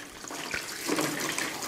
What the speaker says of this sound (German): und jetzt gebe ich 1 Liter warmes Wasser dazu,